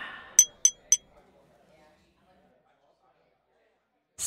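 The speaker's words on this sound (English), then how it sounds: "The cups clink and they slurp their drinks." Coffee cups clink three times in quick succession at a grown-ups' coffee morning, bright and close, followed by near silence.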